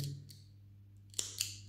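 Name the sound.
worn scissors cutting crochet thread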